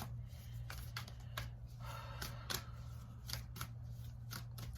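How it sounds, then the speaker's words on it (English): Tarot cards being shuffled by hand make soft, irregular riffling and flicking bursts close by, repeating over a quiet low hum. "I'm just shuffling."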